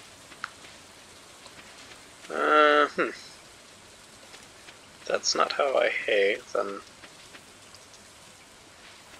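Steady rain falls in the farming video game Stardew Valley as a soft, even patter that runs throughout. A person talks over it at moderate volume in two short stretches.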